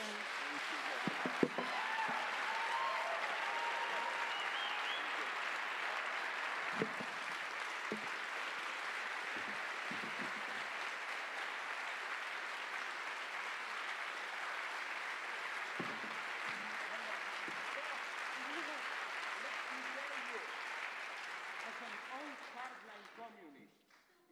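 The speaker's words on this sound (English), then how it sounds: "Save the applause" A lecture audience applauds at length after a talk on populism, a broad, sustained wash of clapping that holds steady for over twenty seconds before tapering off, with scattered voices mixed in.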